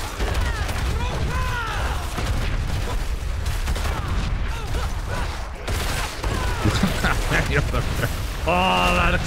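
Blood explosion from destroying an object in Diablo IV, a dense burst of rumbling, crackling impacts and squelching game effects that sustains loudly under busy combat sounds, ending with a bright chiming tone.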